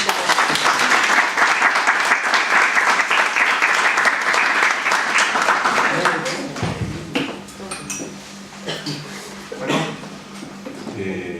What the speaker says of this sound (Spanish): le dejo un aplauso, así le damos